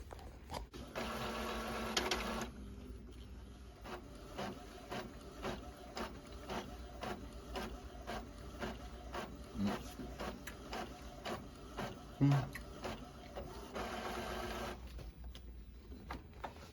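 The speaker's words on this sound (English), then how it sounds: "Takes longer to come out the printer, huh?" A printer works steadily through a sublimation sheet design, with dense rhythmic mechanical ticking and whirring, bursts of louder feed motor noise at the start and end, and a couple of clunks near the close. Loud and close, with no talk.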